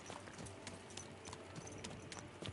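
A horse's hooves clop steadily in Kingdom Come II, a quiet, evenly paced trot of soft hoofbeats with faint background game ambience and no talking.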